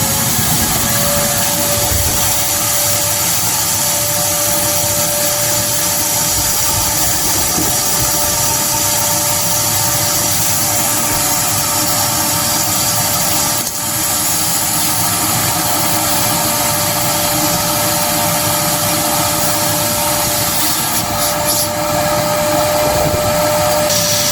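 A loud, steady mechanical drone of a vacuum pump draining a lawnmower's engine oil, running continuously up close, with a constant hum and no speech.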